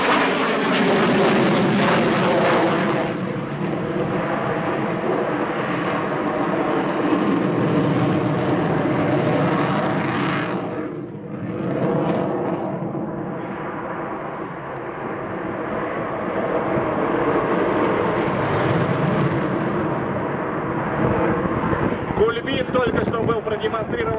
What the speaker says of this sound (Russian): Демонстрирован на самолете МиГ-29М ОВТ для вас в небе аэродрома Раменское.